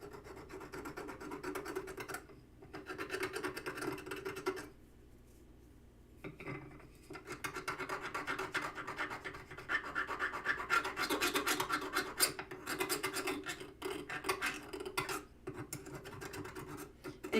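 A metal tool is worked at a slight angle across a sharpening stone to take off burrs and form a small bevel. Rough, close scraping comes in long runs of strokes, broken by short pauses.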